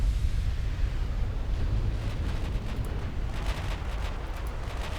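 Battlecruiser Queen Mary exploding in the video game Ultimate Admiral Dreadnoughts, a sustained roaring blast that rumbles and crackles throughout with scattered popping bursts.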